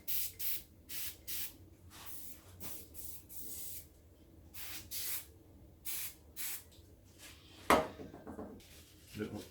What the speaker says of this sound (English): should we try a bit of dry silica spray in that